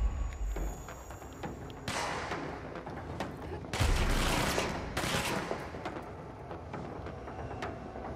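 Gunfire in the video game Control, rendered as bursts of broadband shots and booms in two dense stretches over constant in-game noise and rumble, fairly loud but partly blended into the mix.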